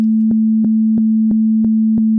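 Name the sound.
synthesizer sine wave notes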